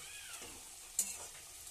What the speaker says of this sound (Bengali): এটা আমি 5 মিনিট ভালো করে ফুটিয়ে নেব